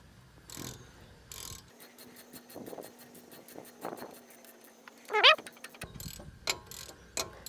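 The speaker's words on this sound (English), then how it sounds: "So we're going to tighten these bolts back up." A socket ratchet tightens brake bolts on a 2014 Nissan Frontier during a front brake service, giving quick bursts of close clicking with pauses between strokes, plus a sharp metallic clank near the end.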